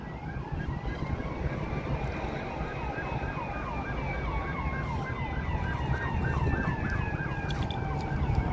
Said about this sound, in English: We'll see if there's an ambulance coming here.